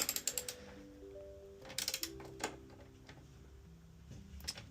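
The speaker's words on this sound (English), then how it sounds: "Alright, now that we've done it by hand, use a ratchet." A hand ratchet clicks in short bursts while tightening the clamp on an AEM cold air intake in a BMW F48 X1 engine bay, with quick close pawl ticks and brief pauses between strokes.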